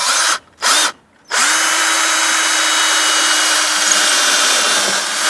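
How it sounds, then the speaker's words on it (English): A power drill whirs in two short bursts, then pre-drills at an angle into a wooden soffit while a bay window is installed, boring steadily with a loud, continuous whine. "I'm going to pre-drill"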